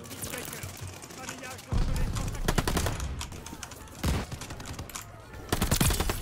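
Rapid gunfire from Call of Duty Vanguard rattles in repeated close bursts of crisp shots, with heavier volleys hitting an enemy at intervals. A voice talks over parts of it.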